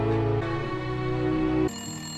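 A telephone rings with a steady electronic tone, loud and close, shifting to a higher-pitched ringing pattern partway through, with no talking.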